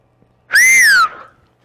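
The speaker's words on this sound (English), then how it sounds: "it's still a good whistle" A single loud, piercing human whistle blown close by, sliding up then down in pitch over about half a second before trailing off quickly.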